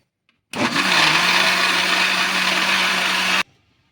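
A mixer grinder grinding batter with fresh coconut whirs loudly for about three seconds, a steady high-pitched motor roar that starts and stops abruptly.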